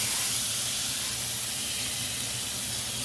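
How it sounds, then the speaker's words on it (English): Steady, loud hiss of rib roast sizzling in a hot pan, a constant crackling spray of sound with no talking. "All right, so that's all sizzling up there."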